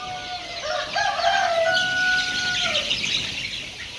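Black Australorp chicks peeping on a farm, a few thin, high chirps heard close and clear over a steady background hiss, no voices present.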